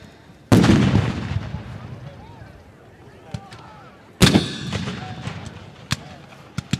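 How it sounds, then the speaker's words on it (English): Two heavy cannon blasts boom out at a Civil War reenactment battle in Sacramento, Kentucky, several seconds apart, each followed by a rumbling decay, with scattered sharper musket-like pops in between. "they've got two cavalry units circling around as cannon fire continues"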